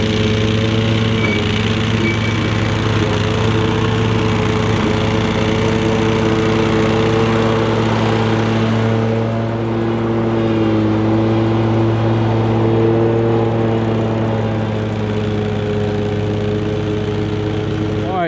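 A 2022 Exmark Vertex mower's 23.5 horsepower engine runs, a loud, steady droning hum with a slight shift in pitch midway, close and continuous for the whole stretch.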